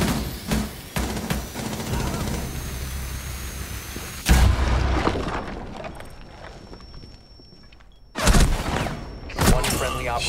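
Launcher explosions in Rainbow Six Siege, heavy rumbling blasts and sustained noisy roar, with a sharp burst partway through and more bursts near the end.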